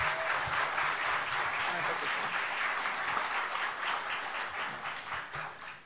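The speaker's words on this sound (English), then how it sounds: "Let's give them another round of applause" Steady audience applause for award winners at an academic emergency medicine awards session, a broad continuous wash of clapping that slowly tapers off, with faint voices mixed in underneath.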